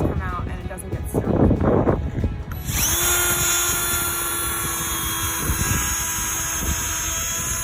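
A power drill bores into very hard wood. Its motor whines steadily and close after a few seconds of talking, and the pitch dips a little as the bit is pushed down and pulled back.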